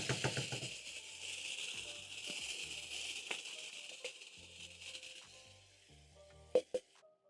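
Tomatoes tipped into a hot pan for beef tikka masala, giving a steady sizzle with scattered rattles and two sharp knocks near the end, quiet and close with no talking.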